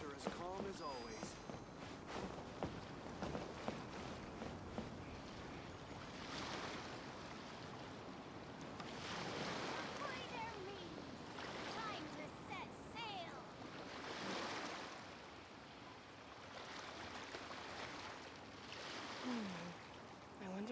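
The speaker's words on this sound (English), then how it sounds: "The waves are as calm as always." Calm ocean waves from Call of Duty's counterpart Genshin Impact roll in as steady, soft surges and washes, faint and continuous, with voices talking over them.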